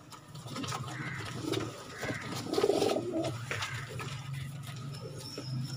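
Pigeons on a rooftop give soft repeated low cooing calls at moderate distance over faint ambient background, with the calls swelling in the middle.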